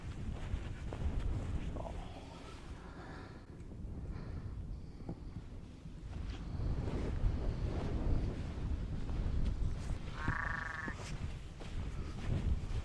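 Sheep bleat on open ground during lambing season in the Peak District near Winnats Pass, a single short call partway through, fairly distant under heavy wind rumble against the microphone.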